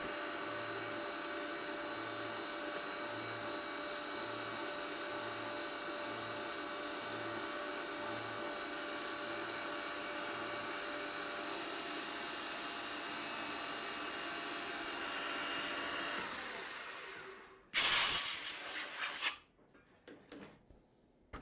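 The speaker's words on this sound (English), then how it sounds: "This is a 3mm tooth flute Mitsubishi carbide end mill." A 3mm Mitsubishi carbide end mill cuts stainless steel with a steady, high, tonal whine that holds for about seventeen seconds. A brief, loud, harsh burst follows before the machining stops.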